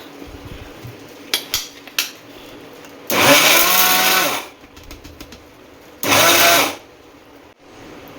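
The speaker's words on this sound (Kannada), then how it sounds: "ಇವಾಗ ಇದನ್ನು ಹಾಕ್ಕೊಂಡು ಮಿಕ್ಸಿ ಮಾಡ್ಕೊಳ್ಳೋಣ." A kitchen mixer grinder blends jackfruit seed powder with jaggery in two loud bursts, one longer and one shorter, each followed by a pause. Light knocks and clicks come before the first burst.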